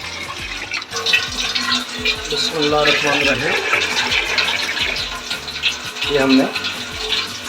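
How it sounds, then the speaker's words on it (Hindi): Water streams and splashes steadily into a cooking pot, filled for boiling rice, while someone talks over the pouring. "इसके अंदर अब हम पानी ऐड करेंगे।"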